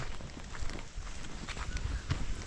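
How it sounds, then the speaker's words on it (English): Footsteps of someone walking outdoors along a rural path toward a river where cattle graze, a steady crunching rhythm close by under a constant breezy background. "I'm walking."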